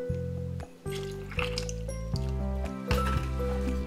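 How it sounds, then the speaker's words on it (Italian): Water poured into flour for a sourdough chocolate bread dough: a steady liquid pour with small splashes, heard close and over continuous tonal background music. "E adesso andiamo ad aggiungere tutta l'acqua."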